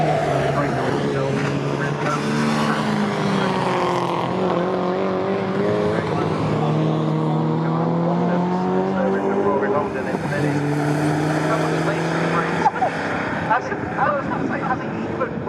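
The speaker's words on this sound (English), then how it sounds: "I think that's might be the 152 Stevenson Hales car" Classic K Series racing cars, a Mini among them, circuit Snetterton at speed, their loud engine notes droning and shifting in pitch as they pass, with a commentator talking over the racing.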